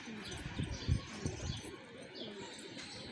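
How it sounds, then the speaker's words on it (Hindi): A pigeon on a rooftop coos in low, throaty pulses, nearby and fairly loud, with light chirps and a brief flutter of wings behind. "ये अभी आया तो मेरी नज़रों के अंदर ये आ गया ये कबूतर"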